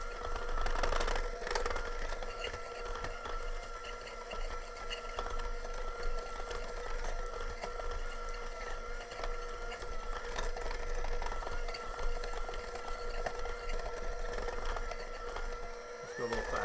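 Electric mixer beating heat-treated flour into butter and sugar for edible cookie dough, a steady close motor whir with rattling from the bowl, running continuously throughout.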